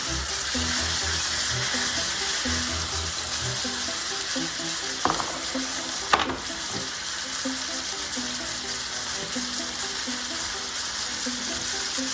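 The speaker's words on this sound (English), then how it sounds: "we're gonna get these pork chops fried up until they're golden brown" Pork chops fry in olive oil in a pan with a loud, continuous sizzle and crackle. Two brief sharper clatters come midway, and nobody speaks.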